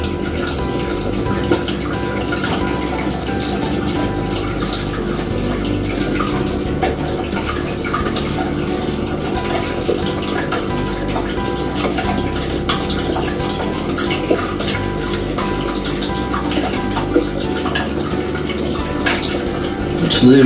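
Water runs continuously into a freshwater aquarium test tank, a steady close splashing wash with faint voices at times in the background.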